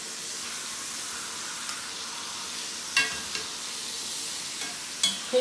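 Seasoned beef browns in a pan with a steady, fairly quiet sizzle, broken by a few sharp clicks and scrapes as the meat is turned.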